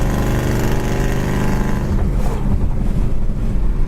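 A 1972 Chevy Nova brakes hard from high speed, heard as heavy, blustery wind and road roar that thins out as the car slows.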